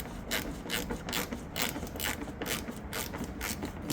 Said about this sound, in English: Okay, now I'm screwing these back.